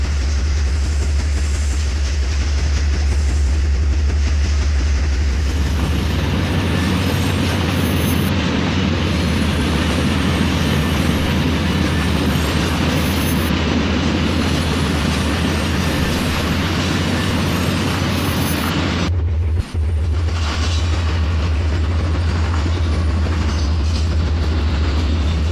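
A simulated train runs in the Trainz: A New Era railway game, a loud continuous rumble with a low engine drone and rolling wheel noise that briefly drops out near the end before resuming.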